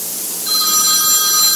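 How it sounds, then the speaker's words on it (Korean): In the middle of a church sermon a telephone starts ringing: a loud, steady electronic trill that swells up after a faint start and keeps going unbroken, with no voices over it. "전화 소리가 진짜 나네요."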